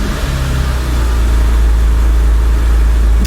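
A BMW E90 car engine runs loud and steady, a deep low rumble with a brief rougher surge at the start, then settling into an even idle.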